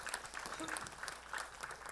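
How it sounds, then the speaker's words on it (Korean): Audience applause at a Suwon integrity-themed talk concert, a steady dense patter of clapping across the hall that never lets up, with some crowd murmur blended in. "여러분들 다시 한번 박수 한번 보내주시면 감사하겠습니다"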